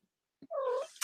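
A house cat lets out a single drawn-out meow, close and fairly loud, after a brief soft lead-in sound, with no one talking.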